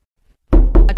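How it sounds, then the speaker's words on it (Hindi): Two sharp, loud knocks on a door, close and distinct after a moment of silence, with no voices. "अचानक दरवाजे पर दस्तक हुई।"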